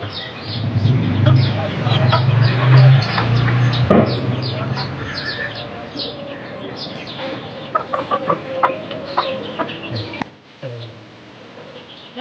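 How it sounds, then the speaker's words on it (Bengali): Hens cluck and squawk close by while a person talks over them during chick vaccination, with scattered rustling and bird chatter throughout. "দেখছেন এই মুরগিগুলো, এখানে যত কটা মুরগি আছে"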